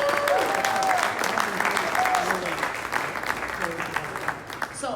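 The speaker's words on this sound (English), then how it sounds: "So please, another round of applause for our board of directors." Applause for a blues society board of directors at a blues challenge event, a dense crowd clapping steadily for several seconds with an announcer's voice over it, gradually thinning toward the end.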